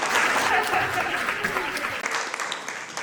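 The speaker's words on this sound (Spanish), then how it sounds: "Os damos un fuertísimo aplauso por haber estado compartiendo con nosotros el Día Internacional del Flamenco" Audience applause at a flamenco gala held for International Flamenco Day, steady clapping from a crowd that stays strong throughout and fades slightly near the end, with faint voices underneath.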